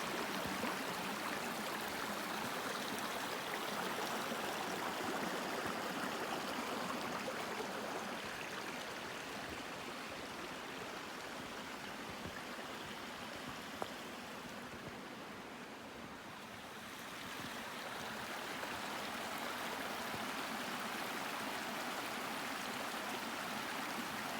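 A creek in an old-growth forest at Rockport State Park, Washington flows in a steady, soft rush of water, continuous and fairly quiet, with no voices.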